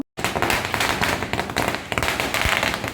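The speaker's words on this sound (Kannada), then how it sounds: "ಪಟಾಕಿ ಹೊಡಿಲಿಕ್ಕೆ ಶುರು ಮಾಡ್ದ" Diwali firecrackers burst in a dense, continuous crackle of rapid pops that stays loud and close for the whole stretch, with no talking over it.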